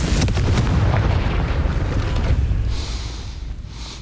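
Confringo blasting spell detonating in Hogwarts Legacy on Nintendo Switch: a heavy, booming explosion with a rumbling low tail that fades over a few seconds, followed by a faint high ringing shimmer.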